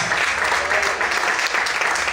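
Church congregation applauding loudly, a thick continuous burst of many hands clapping that stays strong and even from start to finish.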